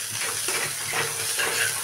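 Ginger and garlic fry in a pan for an Assamese egg curry, a steady close sizzle with soft stirring scrapes running throughout, no voices.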